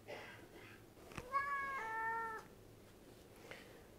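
A house cat meows once, a clear drawn-out call rising and falling over about a second, heard fairly close against a quiet indoor room.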